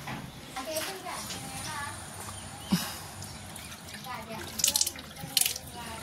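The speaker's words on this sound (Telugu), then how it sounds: "ఇప్పుడు కుళాయి వచ్చింది" Water runs from a tap in the background, splashing gently, while children talk and play nearby.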